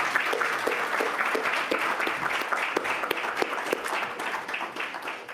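Audience applause follows a talk at a conference session on CCAM and societal goals, a steady wash of many hands clapping at fairly even loudness throughout, with no speech over it.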